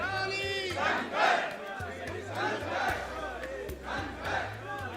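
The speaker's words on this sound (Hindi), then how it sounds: "भारी भीड़ है जो हमारे पीछे है, और करौली शंकर के नारे लगाए जा रहे हैं।" A large crowd chants slogans for Karauli Shankar in loud, rhythmic bursts of many voices rising and falling together, with a low hum running steadily underneath.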